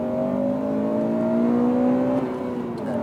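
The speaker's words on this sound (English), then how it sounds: "I do really love the way that this engine revs." A Honda Civic Type R engine revving up toward 8,000 RPM, a rising close-up whine that climbs smoothly for about two seconds and then drops off as the throttle is released.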